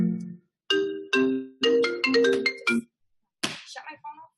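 A phone ringtone plays a bright melodic tune in several bursts, pausing briefly between phrases, loud and close, with no talking over it.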